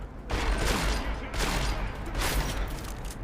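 Sustained gunfire in the shooter Deus Ex: Mankind Divided, three loud bursts of rapid shots rolling together over a steady low rumble, with no clear gaps between rounds.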